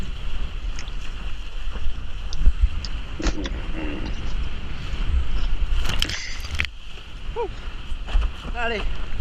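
Gusty wind buffets the microphone during a windsurfing session on open water, roaring in uneven bursts with splashes and board knocks, while a person speaks intermittently over the noise.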